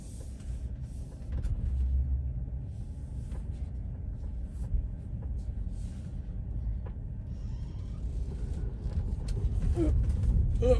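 A Tesla running FSD Beta 11.3.4 drives over a bumpy road, its steady low road rumble swelling toward the end with scattered small knocks and thumps from the uneven surface.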